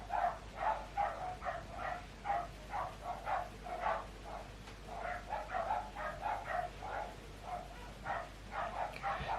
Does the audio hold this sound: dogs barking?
yes